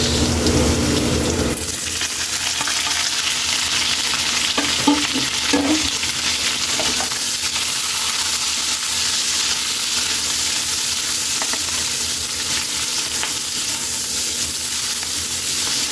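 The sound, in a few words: white onion sizzling in oil for adobong sitaw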